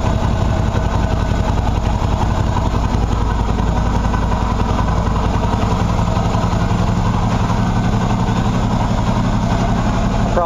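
A Qlink QBK 250 Adventure motorcycle idles after sitting unused, its single engine chugging loud, close and steady throughout with no voices.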